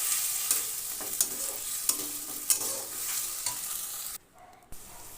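A cumin, coriander and mustard paste with spices is sautéed for crab curry, giving a steady close sizzle broken by repeated scraping knocks of a spatula against the pan and a brief dip in the hiss near the end.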